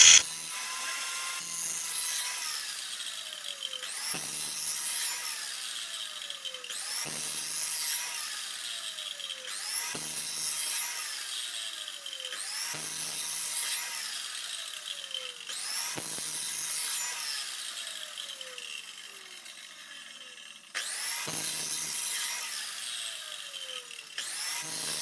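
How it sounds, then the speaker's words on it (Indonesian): An aluminium door spigot profile is cut in repeated strokes, each a bright rasping saw burst that fades off before the next begins, about every three seconds, steady and close with no voices. "Langkah berikutnya kita potong spigot, ukur aja bagian tengahnya ya,"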